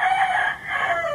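A Claret White Boston gamefowl stag gives a single close, loud crow, bright and drawn out for just over a second.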